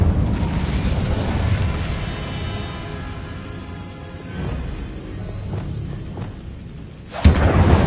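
The Incendio fire spell goes off in Hogwarts Legacy, a dense roaring burst of flames that rumbles steadily for several seconds and ends with a sharp loud crack.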